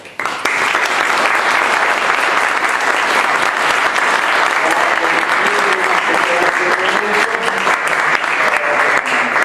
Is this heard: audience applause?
yes